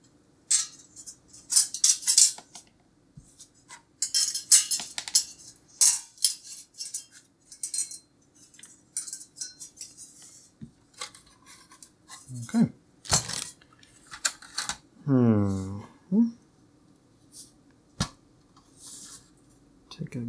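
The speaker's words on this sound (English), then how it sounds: "Let's just extricate all of the screws." Screws come out of a Sega Mega Drive console being repaired, with repeated small metallic clinks and rattles of screws and tools close by, irregular and spread throughout, and a short voice passage near the end.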